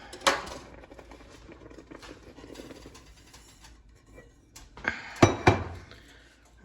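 A spoon stirs cocoa and sugar into cherry jam in a pan, with scattered clinks and scrapes against the metal and a louder cluster of knocks near the end.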